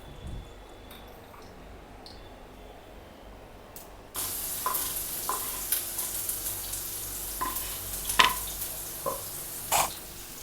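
Mustard seeds hit hot oil in a pan, bursting suddenly into a loud close sizzle with scattered sharp pops and crackles after a quiet start.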